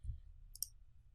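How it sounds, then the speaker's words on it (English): A single faint, sharp mouse click on a Save button, brief and close, over low background hum, with no speech. "And then click Save."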